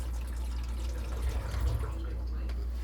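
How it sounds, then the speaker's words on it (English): Water from a freshly unplugged sink drains steadily after a plumbing fix, a close, continuous wash of gurgling liquid over a low, constant rumble lasting about three seconds, without a break or rise. "Pull the plug. Draining fast."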